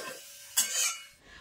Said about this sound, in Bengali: আর এখানে আলু ভাজাও প্রায় হয়ে আসলো।